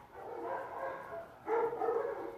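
A small house dog barks along with street dogs, several moderately loud yapping barks in two bursts, the second louder, close by.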